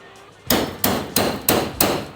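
Loud, hard metallic impacts pound out rivets on a vintage Airstream trailer's aluminum shell, five sharp blows at a steady rhythm, each ringing briefly, close by after a quiet start.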